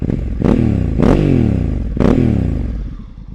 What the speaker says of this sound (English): Let's have a little crank up of the exhaust now.